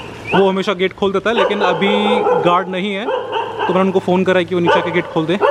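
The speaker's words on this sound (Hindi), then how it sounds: "बस कुत्ता ही भौंक रहा है" A dog barks near a residential building's locked gate at night in Dhaka, intermittent yaps and barks heard under someone talking close to the microphone.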